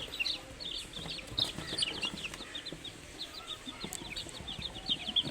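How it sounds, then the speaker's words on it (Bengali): One-day-old tiger chicken chicks peep over and over in high, bright, rapid cheeps, many birds close together at a moderate level, with a faint low rustle underneath and no talking. "এই দেখেন একদিনের বাচ্চা কত সুন্দর একদম সুস্থ বাচ্চা"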